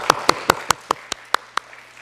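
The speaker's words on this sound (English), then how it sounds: "Yeah, you can clap for that." Clapping at a church service: about eight sharp, evenly spaced claps in a quick, regular rhythm, then quiet.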